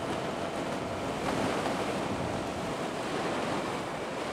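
Sea waves washing onto a non-white-sand shore at Dingalan, a steady, loud rushing surf mixed with wind buffeting the microphone, continuous throughout with no voices.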